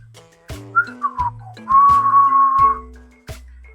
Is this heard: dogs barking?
no